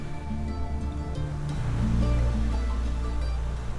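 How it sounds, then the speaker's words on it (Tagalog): Rough Pacific Ocean surf and wind wash along the coast at a small town in Palanan, Isabela, a broad rushing roar that swells toward the middle, heard beneath sustained tonal music. "pero mabangis ang alon at hangin."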